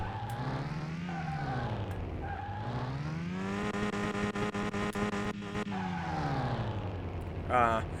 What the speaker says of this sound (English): Turns out you can't do a burnout in a crappy old car.